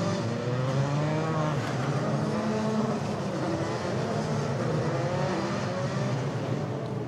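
FIA F3 European Championship cars lap a circuit in a 2013 race, giving a continuous dense engine drone with layered, wavering pitches that stays loud throughout.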